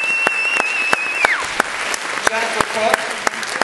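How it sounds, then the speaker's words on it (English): Sparse scattered clapping and a few sharp hand claps from an audience at a high school band senior awards night, under a man announcing a name through a microphone, with a brief feedback tone. "we will give you another round of thunderous applause"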